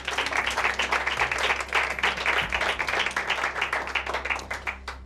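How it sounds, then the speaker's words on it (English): Studio audience at a presenter search audition in Johannesburg breaks into sustained, dense applause, a continuous crowd of clapping that holds steady and tapers slightly at the end. "That deserves a round of applause."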